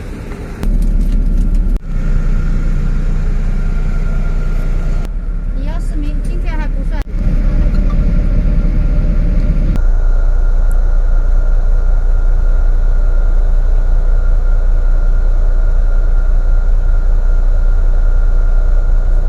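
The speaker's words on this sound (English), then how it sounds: "We're getting back on the bus and to a different hotel." A bus engine runs at close range with a loud, steady low rumble. Its pitch and tone shift as the vehicle changes gear or load, and voices speak over it now and then.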